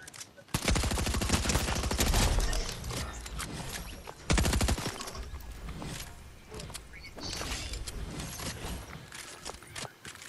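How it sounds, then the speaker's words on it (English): Shotgun blasts in Fortnite, a few loud bursts of gunfire separated by pauses, with a player talking in between. "Push me with the shotgun in my hand."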